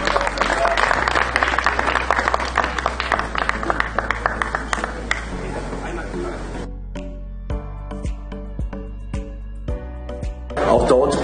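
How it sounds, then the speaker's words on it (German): Applause for the winner of the Rund um Köln amateur cycling race, dense clapping that fills the first half and then thins to scattered claps, under a loud announcer's voice. "darf sich mit einem großen Applaus als Sieger von Rund"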